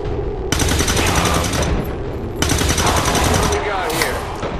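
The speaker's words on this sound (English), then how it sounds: "they're gonna get hit by these Overwatch shots" Overwatch gunfire erupts in the XCOM 2 video game as two loud bursts of rapid automatic shots, with a brief lull between them and a fading tail at the end.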